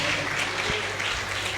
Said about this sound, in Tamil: ஒரு கைதட்டு கொடுக்கலாமா இயேசு ராஜாவுக்கு?